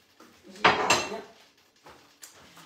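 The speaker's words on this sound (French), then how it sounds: "Donc les plats là, évidemment, ils vont au lave-vaisselle." Kitchen dishes are handled and loaded into a dishwasher after cooking chili con carne: a couple of close clattering knocks of plates, then a few lighter, quieter clinks spaced apart.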